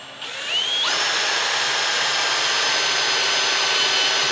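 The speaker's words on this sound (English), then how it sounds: "We're going to pre-drill to about there." A power drill spins up with a rising whine, then pre-drills into wood for a fence gate, boring steadily at a constant high pitch, loud and close, with no voices.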